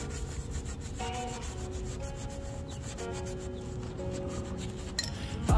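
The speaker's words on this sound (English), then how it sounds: "you lubricate again with soap, and then you start scratching evenly" Soapy wet sanding on the paint of a 1970 Oldsmobile Cutlass, a steady close back-and-forth scratching rub with even strokes, while faint music plays in the background.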